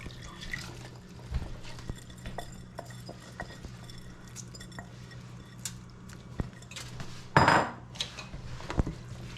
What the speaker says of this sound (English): we're gonna add our rice now.